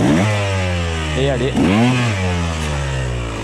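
A motorcycle engine revs hard, close by, as the rear wheel spins on pieces of wood, with two rising and falling pitch sweeps over a sustained drone and someone speaking briefly over it.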